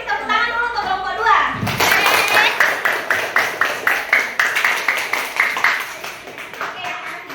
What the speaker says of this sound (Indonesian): Kita kasih tepuk tangan dulu untuk kelompok 2.